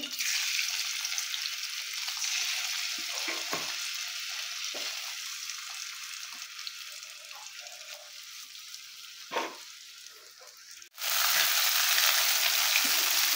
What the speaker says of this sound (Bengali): তো বাকি মাছগুলো আমি এভাবে ভেজে নিচ্ছি।